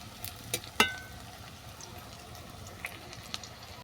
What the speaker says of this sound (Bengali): দেখো, বড়াগুলো সব ভাজা হয়ে গেছে